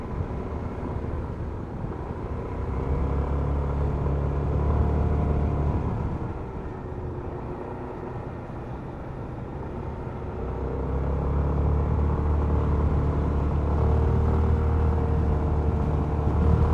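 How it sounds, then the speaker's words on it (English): A passing car fitted with twin mufflers rolls by on a street in Japan during Tanabata, its low exhaust rumble swelling, easing, then building again close by, alone without talk. "This guy's got 2 mufflers."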